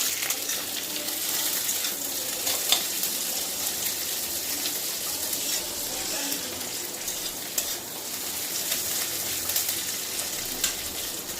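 Garlic, onion and green chilli fry in a hot pan, giving a steady, close hiss of sizzling with faint stirring scrapes throughout and no talking.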